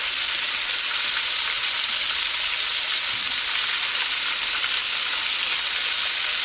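Gator meat frying in a cast iron pan just below medium heat, a loud, constant close sizzle and hiss with no breaks.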